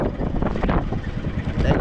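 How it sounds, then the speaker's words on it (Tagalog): Strong sea wind buffeting a GoPro microphone aboard a small fishing boat, a loud continuous rumbling roar that dominates throughout, with a few voices faintly under it. "Pasensya na kayo, medyo mahangin talaga. Malakas ang hangin."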